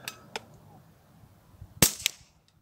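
A Beeman P17 air pistol fires at a 35 m range: a sharp, loud crack stands out alone near the middle, followed by a smaller snap, with a couple of faint ticks earlier.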